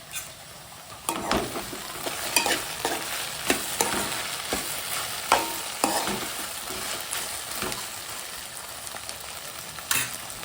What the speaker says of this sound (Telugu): బెండకాయలు కొంచెం కలర్ వచ్చే వరకు ఉడకాలండి